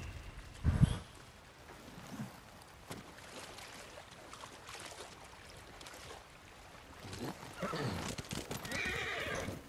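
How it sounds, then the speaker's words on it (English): A horse in the video game Ghost of Tsushima gives a loud neigh near the start, followed by a longer stretch of quieter movement sounds and louder hoof clatter toward the end. "Good horse, Nobu."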